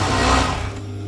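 An industrial sewing machine runs steadily, stitching the sleeve seam of a children's tracksuit with a narrow twin needle, starting at the cuff and working toward the body. The hum is continuous and close, then eases off near the end.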